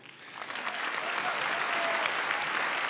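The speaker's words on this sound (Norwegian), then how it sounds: "Applaus til hun." Applause from an award-show audience at the Spellemannprisen music awards, building from moderate to steady, dense clapping that fills the hall and continues throughout.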